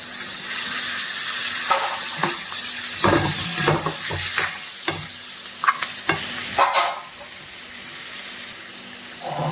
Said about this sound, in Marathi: तर आता याच्यामध्ये आपण टाकून देऊया हे उकडलेले कारले.